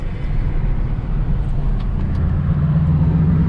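Deep, steady engine rumble of a Chevrolet Impala SS idling nearby, a low throaty drone that holds without pause for the whole stretch.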